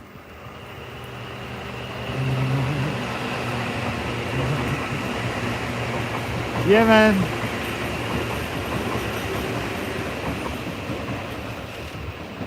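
A train rumbles along railway tracks beside a tunnel, a steady rushing roar building and holding throughout, with a brief tonal squeal partway through and a man's short remark over it.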